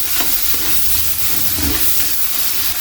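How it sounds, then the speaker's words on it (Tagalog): Chopped onions with garlic frying in a pan for squid curry, a loud, steady sizzle and hiss with occasional soft stirring bumps, no talk. "Lagay na natin yung sibuyas."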